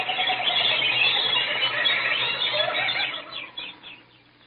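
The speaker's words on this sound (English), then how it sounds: "The birds." Birds in a radio drama sound effect give a dense, continuous chorus of shrill squeals and chirps, loud and unbroken before thinning and fading away near the end.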